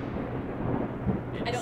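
A low thunder rumble plays steadily and fairly faintly for under two seconds, with a brief brighter crackle near the end.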